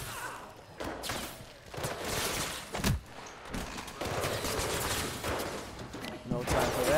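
Gunfire in the video game Mirror's Edge Catalyst: bursts of rapid shots and sharp impacts over a busy backdrop of game sound effects, at moderate loudness.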